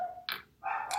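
A couple of short, sharp dog barks close by, separated by a brief pause, with no talking around them.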